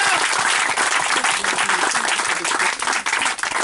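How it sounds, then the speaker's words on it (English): A church congregation claps and applauds together at a healing service, a dense, steady wash of many hands filling the space for a few seconds at close range. "Clap for Jesus Christ."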